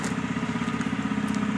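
A small 100 cc motorbike runs on a rough village road near a temple, its engine putting out a steady low idle-like putter, moderately close and alone.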